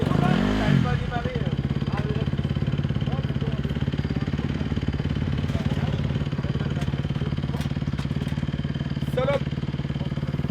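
Motocross motorcycle engine running at a steady idle, a close, continuous low throb with a sputtering start at the beginning and faint voices in the background.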